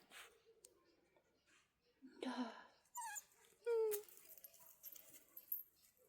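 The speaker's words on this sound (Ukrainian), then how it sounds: "Бойова собака." A dog gives a few short whines and yelps up close, with rustling and soft background noise between the sounds.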